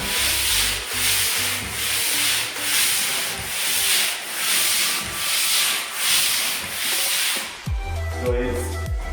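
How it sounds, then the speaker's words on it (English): A sander scrapes up and down a wall in regular strokes, a rhythmic rasping swell roughly every half second, before stopping and giving way to a few soft knocks and low sounds. "you pull the sander up and down the wall, and the left hand applies the pressure"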